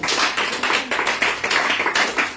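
A prayer congregation clapping in unison to acclaim Jesus, a brisk steady rhythm of sharp handclaps, loud and close, continuing evenly for a couple of seconds without voices.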